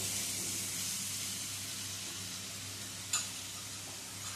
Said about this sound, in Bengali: সব দিয়ে মশলাটা ভালো করে কষিয়ে নেব 3-4 মিনিট ধরে লো টু মিডিয়াম স্টিমে